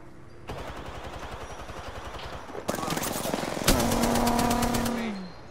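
Rapid, loud automatic weapon fire in a battle royale match, Apex Legends, chattering steadily and intensifying in overlapping bursts toward the end, with a ringing tone lingering after the final volley; a voice occasionally mixes in.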